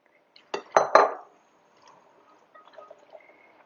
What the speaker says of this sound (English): Now I'm going to add in all of those vegetables.